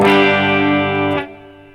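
A sustained electric guitar chord through a Boss GX-10 preset rings out, then its reverb tail lingers and fades as spillover after switching presets.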